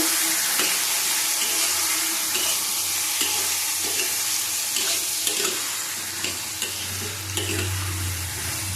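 Mushrooms sautéing in a pan with tomato, salt and a little water, a continuous close sizzle and bubbling with occasional spatula scrapes and clinks, swelling into a louder hiss near the end.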